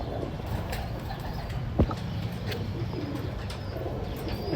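Pigeon cooing in a Rawalpindi loft of high-flying topi pigeons, soft low coos repeating faintly under steady background noise, with one brief louder thump partway through.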